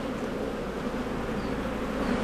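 Honey bees swarm around an open hive whose frames hold pollen, capped brood, larvae and eggs, making a dense, steady, close-up buzzing drone that stays even for the whole stretch with no voices.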